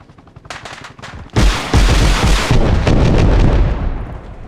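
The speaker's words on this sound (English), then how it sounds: "I'm shooting at the building I want you to get rid of" Gunfire in the Arma Reforger video game is aimed at a building. A few sharp shots give way to a loud, sustained burst of rapid fire close by, with no voices over it.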